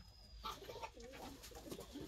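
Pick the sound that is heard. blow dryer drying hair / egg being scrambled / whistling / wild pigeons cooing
wild pigeons cooing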